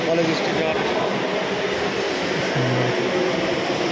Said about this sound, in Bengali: দেখো এখান থেকে আমাদের মেট্রো ধরতে হবে